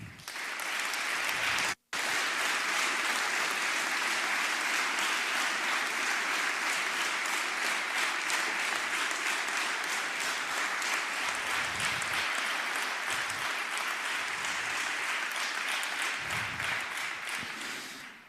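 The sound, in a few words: applause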